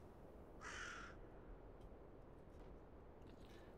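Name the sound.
crows cawing in S.T.A.L.K.E.R.: Call of Pripyat video game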